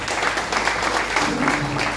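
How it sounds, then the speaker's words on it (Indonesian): A church congregation applauds during a Sunday worship service, steady dense clapping filling the room at close range for the whole stretch, with no talk over it. "Tepuk tangan dulu dong untuk Tuhan."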